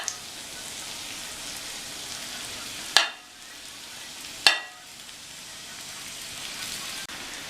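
Vegetable rice is stirred in a hot pan over a steady close sizzle of frying. Two sharper scraping stirs break through the sizzle, with no talking.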